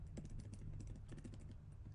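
Typing on a computer keyboard while entering a command to edit a router configuration file, a steady run of close, crisp key clicks with a brief pause midway, no talking.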